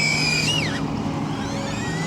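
A DJI Avata FPV drone performs a power loop over an open field, its high motor whine swooping down in pitch as it loops, then settling into a steady buzz over constant wind-like rushing noise.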